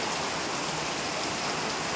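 Heavy rain at night, around two in the morning, with wind: a dense, constant roar of rainfall pattering on surfaces, close and steady throughout, with no voices.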